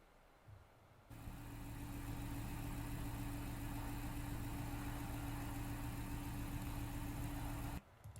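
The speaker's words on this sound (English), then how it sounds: "Engine sounds good." A Dodge Charger R/T, blacked out and damaged in a collision, idles steadily at an auction, its engine starting after a quiet second and holding a close, even rumble until it shuts off near the end.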